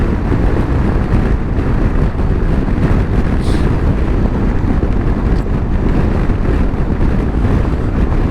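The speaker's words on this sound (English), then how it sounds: "Buffeting, buffeting." Steady roaring wind buffeting from a Honda ADV350 scooter at around 35 mph on an uphill road, a continuous loud broadband rush with no breaks.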